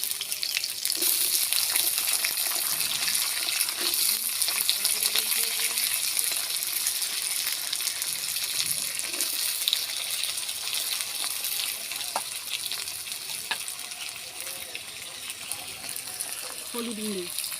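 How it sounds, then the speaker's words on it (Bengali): Potatoes frying in hot oil with black cumin, a steady close sizzle and hiss throughout, with occasional stirring and faint talk underneath. "আলুগুলো ভালো করে ভেজে নেব।"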